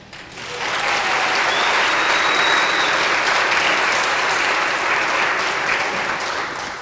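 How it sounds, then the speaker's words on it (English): Audience applause at a press conference for a hospital breast health center, a sustained round of clapping from a room full of people rising quickly and holding steady for several seconds without speech. "Definitely worthy of a round of applause for sure."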